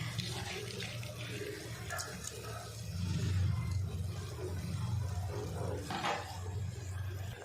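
Water pours into a cooking pot for basmati rice mint pulao, a continuous splashing gush that swells louder midway and carries on steadily to the end.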